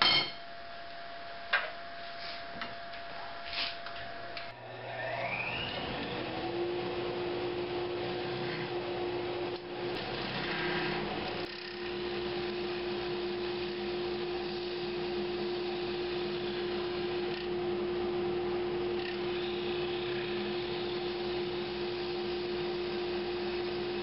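A wood lathe spins up and runs steadily while a wooden bowl is hollowed, a continuous motor whine and hum with faint cutting scrapes, close and without talk.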